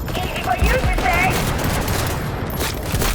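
Rapid bursts of automatic gunfire from a first-person shooter firefight in Cyberpunk 2077, dense and continuous for a few seconds, with a voice calling out faintly beneath the shots.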